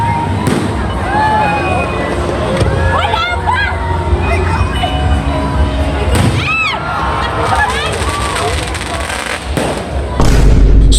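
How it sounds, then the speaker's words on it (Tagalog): Fireworks burst high above Maasin City Hall in Southern Leyte during the Charter Day Pabulhun Festival, with repeated loud bangs and crackles over a continuous murmur of crowd chatter. "makita taod-taod buto na ng mga fireworks dala sa ibabaw sa Maasin City Hall"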